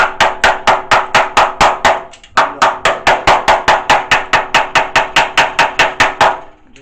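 Two hammers rap quickly and evenly on a rusted-out Ford radiator support, a brisk run of sharp metallic knocks close by that pauses briefly and then carries on at the same pace.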